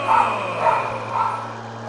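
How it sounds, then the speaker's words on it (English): A dog barks and yips a few times in short bursts over a steady low mechanical hum. "You hear my dogs?"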